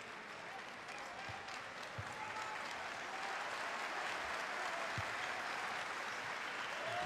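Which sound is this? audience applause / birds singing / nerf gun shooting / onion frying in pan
audience applause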